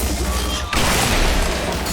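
Explosion in the video game XCOM Chimera Squad, a loud blast that floods the spectrum and holds as a dense roaring wash, briefly dipping before a second surge of rumbling debris noise.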